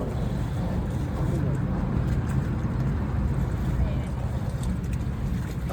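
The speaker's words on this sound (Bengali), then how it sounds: "এই তো নৌকা চলছে ভালোভাবে।" A boat travelling across open water toward a ferry landing, heard as a steady low rumble with wind buffeting the microphone throughout, continuous and fairly loud, with no clear voices standing out.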